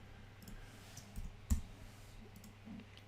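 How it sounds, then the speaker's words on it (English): Faint, sparse clicks of keys being pressed for a keyboard shortcut on a computer keyboard while working in Revit software, with a sharper keystroke near the middle over a quiet room hum. "So I'm going to go RH on my keyboard."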